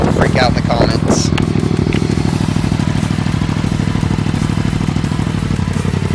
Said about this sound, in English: let's hear how this thing sounds